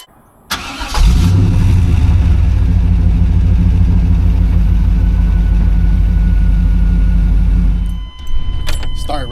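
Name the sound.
1996 Chevy StarCraft van V8 engine starting and idling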